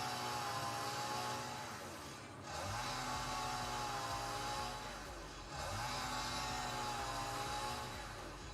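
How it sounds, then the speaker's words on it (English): Continuous droning engine of a chainsaw cutting trees in the video game Satisfactory, loud and steady with two brief dips in pitch and level as it revs, heard alone without talk. "I hope that chainsaw's not too loud."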